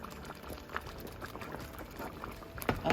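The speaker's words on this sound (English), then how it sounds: "I'll just let that simmer for another 10 minutes" Rice porridge (jook) simmering in a pot, giving a steady low bubbling with small irregular pops close by, continuous and fairly quiet throughout.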